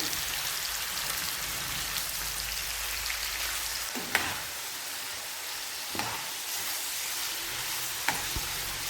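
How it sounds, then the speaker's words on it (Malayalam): Squid pieces fry in hot oil for a squid masala curry, giving a steady dense sizzle with a few sharp spatters and pops, close and continuous with no voices. "കണവയെല്ലാം നല്ലതുപോലെ തന്നെ വറുത്തെടുക്കുക"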